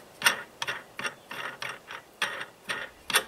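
Bolts on wooden hinge points are tightened with a ratcheting tool, producing about nine short clicking bursts in an even rhythm, close and fairly loud with quiet gaps between them.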